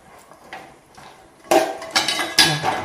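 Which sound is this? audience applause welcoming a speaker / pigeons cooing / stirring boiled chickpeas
stirring boiled chickpeas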